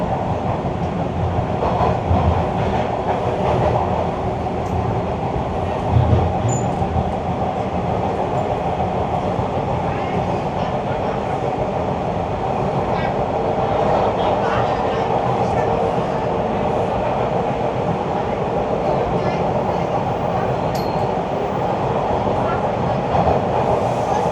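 Crowded Toronto subway Line 1 train running on an outdoor stretch near Dufferin Station, a steady loud rumble and roar of wheels and car body with faint clatter throughout, and some voices mixed into the background.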